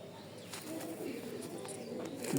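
Racing pigeons of a Kitel bloodline cooing softly in a loft, a low murmuring coo repeating under faint background noise and brief voices.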